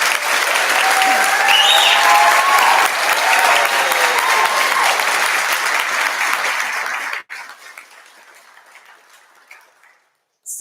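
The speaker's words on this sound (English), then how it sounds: "how about a nice round of applause for our graduates?" Sustained, dense applause from a graduation ceremony audience for graduates, loud and steady for about seven seconds, then dropping abruptly to quieter room noise and scattered sound.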